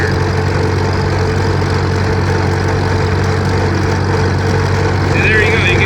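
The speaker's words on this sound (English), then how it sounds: "You can kind of hear the engine's not having to work so hard." Farmall M tractor engine idling steadily with a constant low, loud drone as the governor eases off under reduced load, running alone without speech throughout.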